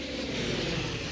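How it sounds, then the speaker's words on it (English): Second World War Soviet Red Air Force planes hunting German Luftwaffe bombers give a steady, rumbling aircraft engine drone that holds at a constant level for a brief moment with no speech. "The Red Air Force hunts down Luftwaffe bombers"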